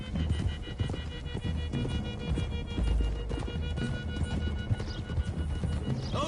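Video game horses gallop with steady, rhythmic hoofbeats under a rumbling background, occasional whinnies mixed in, in Red Dead.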